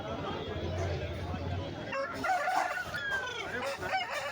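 At Erragadda Sunday market a rooster, likely an aseel, crows loud and drawn out amid the busy chatter and clucking of the crowd and other chickens.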